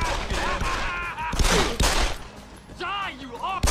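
Enemy gunfire in Deus Ex: Human Revolution, with scattered bursts of shots cracking amid game effects and whooshing tones, while someone talks over much of it.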